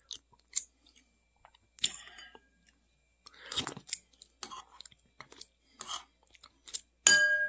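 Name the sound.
chewing Club mini crackers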